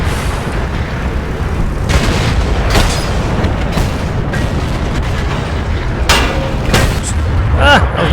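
Tank cannons fire in World of Tanks battle gameplay, heavy booms and sharp shot impacts rising over dense rumbling engine and battle noise, with a voice talking underneath.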